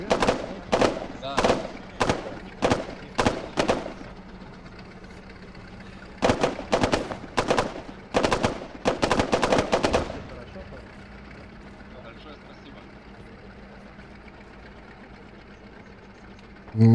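Guns fire in the World War II shooter game Arma 3 Iron Front: loud, sharp bursts and rapid volleys in two clusters, then a low steady engine-like hum continues alone.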